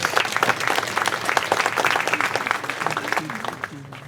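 A banquet crowd keeps up thick, continuous clapping for an award honoree at an annual awards dinner, loud throughout and easing slightly near the end as a voice begins to emerge.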